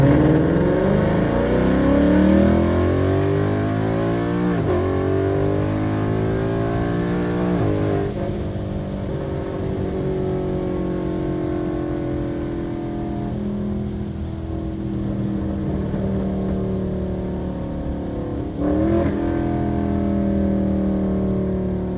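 A car fitted with a Roush exhaust revs hard and accelerates, engine note climbing through several gear pulls with brief dips at the shifts, loud and close from inside the cabin with a window rolled down.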